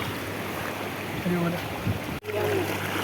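Water streams across a forest road and runs on into the Ganga, a steady, close rushing wash that continues throughout, with a brief vocal sound partway through.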